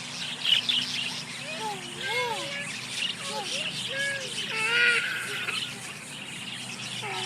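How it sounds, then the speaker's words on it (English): Small birds chirp and tweet in repeated short calls outdoors, moderately close, while a child and an adult talk over the chirping. "You see birdies?"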